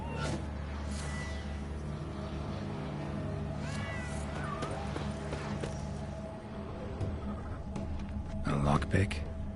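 A cat meows in a video game, a few short rising-falling mews amid game ambience and footsteps, with a person talking over it.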